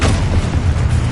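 Confringo blasting spell explodes in a wizarding video game, a loud, dense rumbling boom lasting about a second with no clear gap or pause.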